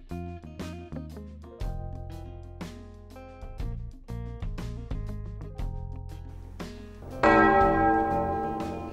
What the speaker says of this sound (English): the big bell indicates that the process is finished